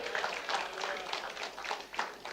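A church congregation claps hands in praise during a Mother's Day worship service, a dense, continuous patter of many hands at moderate distance, steady for the whole stretch with loose rhythmic accents and faint voices mixed in.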